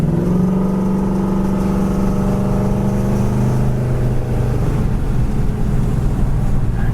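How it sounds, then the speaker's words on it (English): A 1968 Pontiac GTO drives along with its V8 engine droning loud and close, the pitch rising steadily as it accelerates before easing off, with no talk over it. "Great driving GTO."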